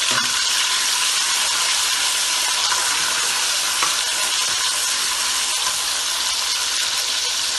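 Garlic ginger paste hits hot oil left over from frying onions for a beef paya curry, giving a loud, steady, dense sizzle and hiss that continues without a break and with no talking.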